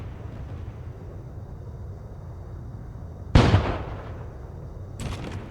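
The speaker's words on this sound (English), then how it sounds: "Aim our cannons and show 'em what you got." A ship cannon in the space game Void Sails fires at floating crates near an island. One loud, close blast rises out of a low ambient hum, and a fainter second shot follows a moment later.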